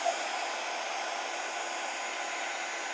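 A crafting heat tool blows steadily as it heats an embossed Christmas card, producing an even, airy hum like a small hair dryer, faint and unbroken throughout.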